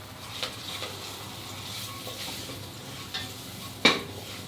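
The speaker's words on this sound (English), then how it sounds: "You just need to lightly roast it for about a minute so that the raw flavor of the spices are diminished." Ground spices for pumpkin sabzi roast quietly in a pan, with a soft continuous sizzle and occasional light scrapes and taps of a stirring utensil against the metal.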